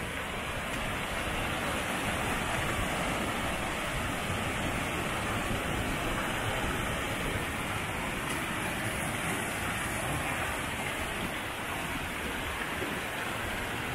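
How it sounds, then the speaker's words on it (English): Flowing water of the North Fork of the San Jacinto River, a steady, dense rushing wash heard close by and unbroken throughout, with no voices. "This is a water source with a pretty good flow."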